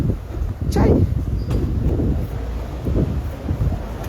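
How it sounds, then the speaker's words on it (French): Wind buffets a phone microphone outdoors, a steady loud rumbling roar with gusty swells, while someone speaks over it. "le petit vent là n'arrange rien"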